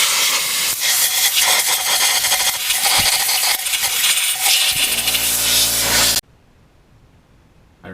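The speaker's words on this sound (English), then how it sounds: "I take compressed air and blow all this off." Compressed air blasts dirt off a Polaris XP 1000 engine, a loud, continuous close-up hiss lasting about six seconds before cutting off abruptly into quiet.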